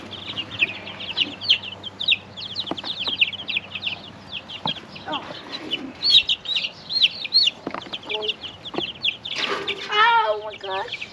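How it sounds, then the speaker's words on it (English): Chickens cluck and squawk in agitated bursts throughout, close by, while people talk and exclaim over them as they try to catch the birds near goats. "I don't want to have to go chasing after a chicken."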